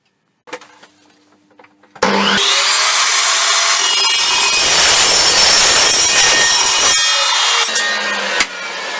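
Handsaw cutting through a piece of tube in a welding workshop: after a few faint knocks, a loud, continuous close-up rasping cut runs for about six seconds, followed by a short pause and more sawing.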